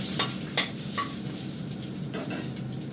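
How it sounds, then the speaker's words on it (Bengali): Dried red chillies and panch phoron tempering sizzling in hot oil for masoor dal, a steady close crackling fry with a few sharp metallic clinks of a spoon against the pan. "মুসুর ডালে আমি দিয়েছি শুকনো লঙ্কা আর দেবো 5 ফোড়ন"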